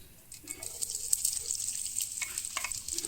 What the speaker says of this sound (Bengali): তারপরে পেঁয়াজটাকে লাল লাল করে ভালো করে ভেজে নিতে হবে